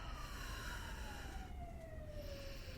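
A fire engine siren near a fire station wails steadily across the whole stretch, its pitch sliding slowly downward as it passes, loud against a dense background of traffic noise.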